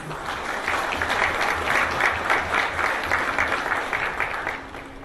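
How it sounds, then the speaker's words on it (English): Sustained applause from a large audience at the opening of the Linen Club Extravaganza in Ho Chi Minh City, a dense, even patter of many hands lasting the full stretch without any talk over it. "this deserves a very generous round of applause from each one of"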